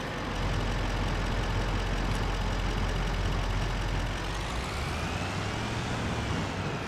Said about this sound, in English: this truck is quite useful though.